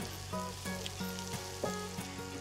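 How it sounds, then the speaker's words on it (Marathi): Chopped capsicum and tomato sautéing in a pan, a soft steady sizzle with light stirring scrapes and clinks at a regular rhythm, close and fairly quiet. "आता हेही भाज्या एकत्र 2 ते 3 मिनिटं परतून घेऊ।"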